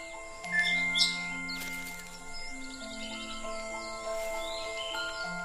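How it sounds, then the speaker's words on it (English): A rare Sri Lankan blue magpie calls in forest, with several short chirps and tonal whistles, one brief burst near the start among other faint bird notes and insect tones. "The rare Sri Lankan blue magpie."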